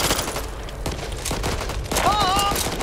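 Rapid gunfire in the zombie shooter Back 4 Blood, a dense continuous volley of shots with scattered sharper cracks, loud and sustained throughout, with a brief whining game effect near the end.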